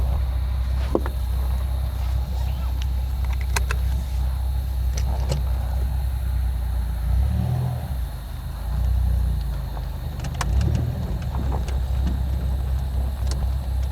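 A 2003 Dodge Viper's engine drones steadily from inside the cabin while driving, with low rumbling swells and scattered clicks and rattles, but no clear rise in revs.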